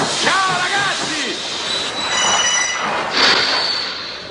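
A train running on the railroad, a steady loud rumble of wheels on track with shrill metallic wheel squeals rising and falling throughout, no talk.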